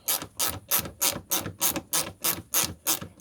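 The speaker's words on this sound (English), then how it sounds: "Yeah, a 7mm socket is the right tool." A 7mm socket wrench ratchets a screw threaded into plastic on an Audi A2, giving a quiet, close run of about ten evenly spaced clicking strokes with no talking.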